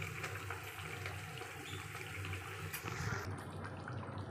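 Water pours into a pan of braised rohu fish with a steady rushing, splashing sound that fades slightly toward the end.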